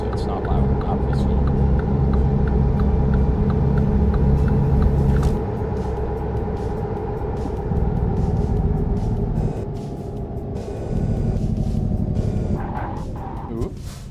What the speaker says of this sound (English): If I press the brakes too hard, I think you guys heard the brake was like squeaking.